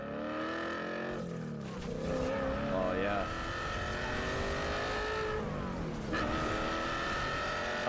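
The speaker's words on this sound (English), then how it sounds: "it's 6-speed manual transmission, but it sounds like an exotic car" A sports car with a six-speed manual transmission revs hard, its engine note climbing and dropping through sweeping pitch changes, close and loud, with a brief spoken exclamation over it.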